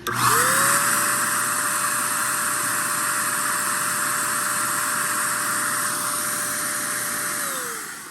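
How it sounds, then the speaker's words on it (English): A portable air compressor runs from an Anker portable power station, giving a steady loud motor drone with a hissing whine that holds for several seconds before spinning down at the end, with no talking. "And I've got this air compressor."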